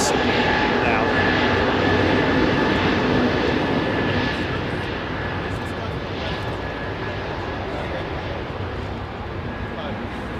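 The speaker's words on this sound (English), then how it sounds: "That's an engine, isn't it? That's an engine." A loud, steady roar of an airliner jet engine running nearby at Heathrow Airport, a broad continuous whine and rush that eases slightly partway through.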